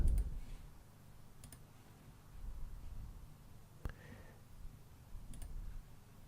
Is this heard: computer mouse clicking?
yes